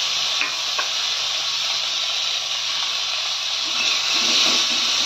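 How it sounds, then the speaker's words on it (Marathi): Tomatoes frying in hot oil in a heated kadhai, a steady loud sizzle and hiss running throughout with occasional faint stirring clicks. "त्यात आपण हे टमाटो फ्राय करून घेऊया थोडेसे."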